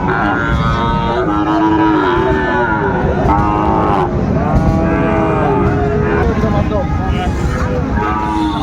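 A Sahiwal bull calf at a Dinajpur cattle market lows out in repeated drawn-out moos, loud and close, one after another over the constant murmur of the crowd, with people talking nearby.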